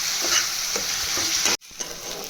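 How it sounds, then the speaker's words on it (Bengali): Onion, ginger and garlic paste frying in a pan with splashes of water, a loud close sizzle under rhythmic stirring scrapes, briefly cut off near the end before resuming. "যাতে তলা না লেগে যায় তার জন্য আমি একটু জল দিয়ে দিয়ে এটাকে কষবো, যাতে পেঁয়াজ, আদা, রসুনের কাঁচা গন্ধটা চলে যায়"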